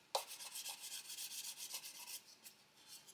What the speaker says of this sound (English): Just sanding over and see if we've got any steps there.